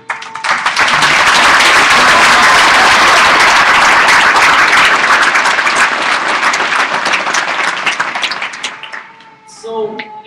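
Graduation audience applauding loudly and steadily for about eight seconds, a dense wash of many hands clapping that tapers off near the end as a few voices come through.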